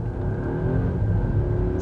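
Volvo XC90 T8 AWD plug-in hybrid pulling away hard from a launch, a steady close engine and drivetrain roar with a rising whine building through the whole stretch, no voices.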